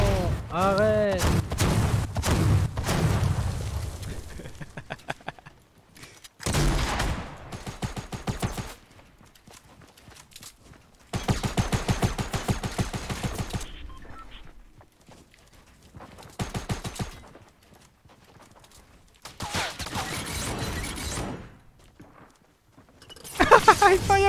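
Video game gunfire arrives in rapid bursts of sharp shots, separated by gaps of quieter play, with a voice talking over some of the stretches.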